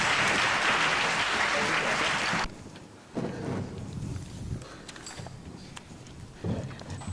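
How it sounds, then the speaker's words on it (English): Concert audience applause for a student conductor at a middle school spring concert, loud clapping for about two and a half seconds, then a room of scattered movement and low talk. "Please give a big round of applause to our student conductor"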